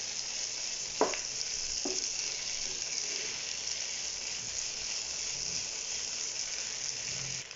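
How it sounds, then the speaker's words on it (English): Sultanas frying in a little oil give a steady, close hiss of sizzling that runs the whole time, with a couple of brief knocks of a spoon early on; no voices. "you want the sultanas to cook thoroughly, to be fried as well in a little bit of oil"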